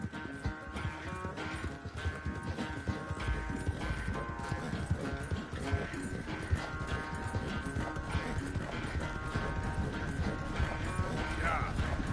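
Horse hooves in Red Dead Redemption 2 keep up a steady, rhythmic clip-clop of a walking horse, moderately quiet and continuous beneath a dense layer of in-game ambience.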